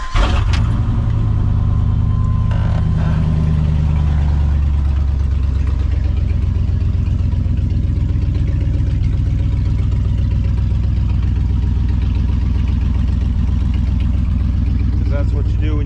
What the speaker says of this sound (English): right now, it's a little noisy because somebody cut the muffler off